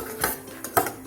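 Metal lid lifted off a cooking pot of simmering cabbage curry, two bright clinks close by against a quiet kitchen background.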